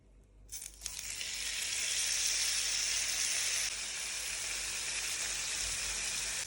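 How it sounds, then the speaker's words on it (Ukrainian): Loud, steady sizzling of chicken fillet pieces frying in a hot pan, starting abruptly and continuing as a dense crackle with no talking. "Куряче філе нарізала такими шматочками і ставлю підсмажуватись на сковорідку."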